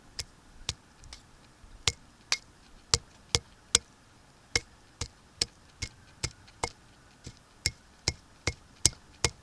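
An axe taps a maple sap spout snugly into a tree trunk in a steady series of sharp, close knocks, about two a second with short pauses, alone in a quiet outdoor setting.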